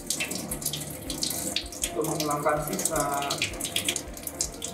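Tap water runs briefly in a sink to rinse off leftover alcohol during a lab staining procedure, a steady splashing flow with a person talking over it.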